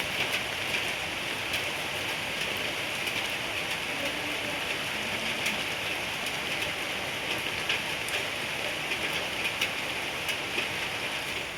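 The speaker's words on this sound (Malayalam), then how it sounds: "ഈ ടൈം നല്ല മഴയാണ് പുറത്ത് കേട്ടോ." Heavy early-morning rain falls outside a village house in a steady, dense hiss of drops on surfaces, constant and unbroken throughout, moderately loud.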